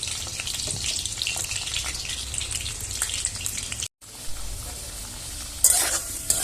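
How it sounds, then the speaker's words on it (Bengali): Potatoes fry in oil in a pan in a small home kitchen, giving a steady, close hiss of sizzling with scraping stir sounds, a brief dropout partway through, then a louder burst of spatter near the end. "তো আলুগুলো মোটামুটি আমার ভাজা হয়ে এসছে।"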